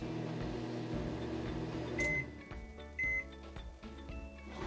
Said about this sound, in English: let's microwave it to melt